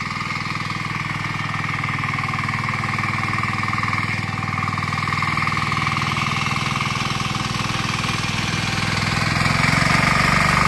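A farm machine engine runs in third gear in a rain-soaked paddy field during rice transplanting, a loud, steady droning hum that holds for the whole stretch and swells slightly near the end.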